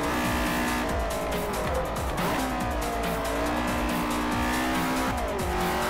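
Mercedes race car in Forza Motorsport 4, engine roaring at high revs with tires squealing through a corner, loud and continuous throughout.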